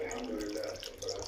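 Hot water runs from a tap in a kitchen while fava beans are being cooked, a brief steady splashing stream with someone speaking over it.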